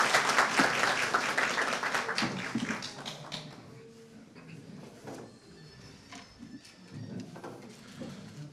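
Clapping at a political campaign rally in Dalaman, Turkey, loud and dense at first, then thinning to scattered claps and small crowd sounds.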